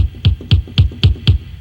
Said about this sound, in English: Play the lowest C and listen to the kick drum.